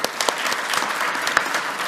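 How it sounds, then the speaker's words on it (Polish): Audience applause at a Polish commemorative meeting, dense steady clapping from a crowd filling the whole stretch with a few sharper claps standing out. "Wielkie brawa."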